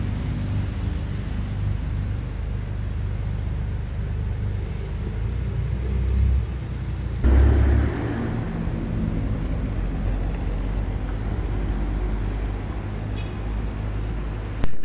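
A car rolling slowly downhill in first gear just after crossing a speed bump, giving a continuous low road rumble with a brief heavier thump partway through.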